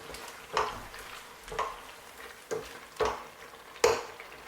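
Coconut rice mixed with chili powder and paprika is stirred in a pot, with a soft ongoing rustle and five distinct scraping clinks of the spoon against the pot, evenly spaced.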